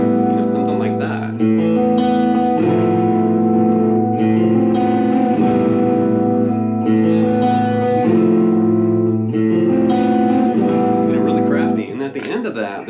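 A heavily distorted electric guitar plays a power chord riff, loud sustained chords changing every couple of seconds with ringing overtones and a bit of noisy pick attack near the end.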